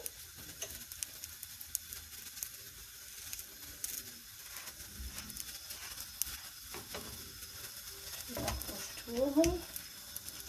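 Msemen flatbread sizzles quietly in a pan while it is shifted around, a faint steady frying crackle with occasional scrapes and a soft voice speaking near the end.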